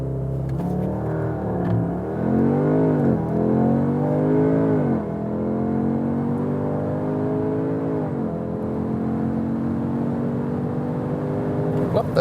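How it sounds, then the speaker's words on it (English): A 2021 Audi S3 Sportback with all-wheel drive accelerates hard, its engine note climbing steadily through the gears with a brief shift dip, loud and continuous from inside the cabin over steady road and wind noise. "Really nice acceleration due to this all-wheel drive, also punch from the rear, but very smooth and even out."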